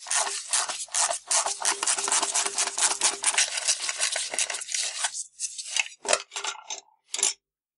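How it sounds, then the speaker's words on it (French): Nuts being loosened and unscrewed from the air filter base of a carburetor on a Renault 4L engine, a close, steady metallic rubbing and rasping of a wrench for several seconds, then a few short scraping bursts before stopping. "il faut enlever les 3 écrous qui sont là."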